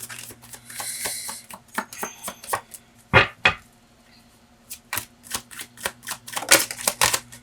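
Tarot cards shuffled by hand in crisp, riffling bursts, with short snaps and flutters coming in uneven rhythm, close and fairly loud, with no talking.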